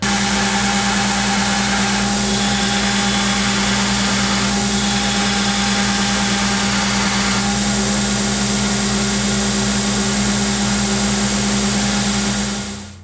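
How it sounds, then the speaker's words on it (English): A belt grinder running a 40 grit ceramic belt shapes a knife blade, giving a loud, continuous motor drone with a steady whine and faint swells of abrasive contact. It holds constant throughout and cuts off at the end. "I'll give the blade its shape on the belt grinder using a 40 grit ceramic belt."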